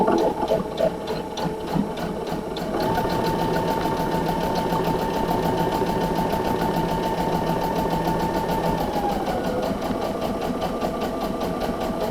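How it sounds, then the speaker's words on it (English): A sewing machine back stitches along a quilt binding, running in a steady, loud mechanical whir that shifts pitch partway through when the stitching direction changes, close by and alone. "give it a little bit of back stitch because we've just got a lot of movement in there"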